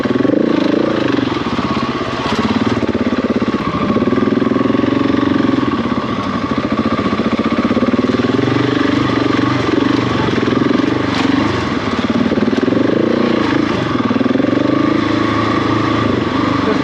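A motorcycle engine runs loud and close throughout while the rider slips the clutch and feeds in throttle over rough terrain, giving a steady droning roar with slight surges in pitch.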